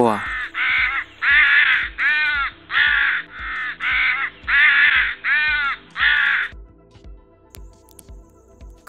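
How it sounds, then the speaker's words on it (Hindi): A crow caws loudly and close in a steady series of about ten harsh, evenly spaced calls, then stops, leaving near silence. "कोवा"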